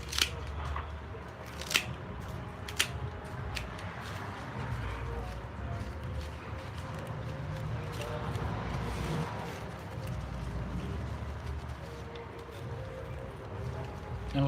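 Scissors faintly snip floral material to trim it to fit a container at a florist warehouse, giving a few sharp clicks over a steady low room rumble.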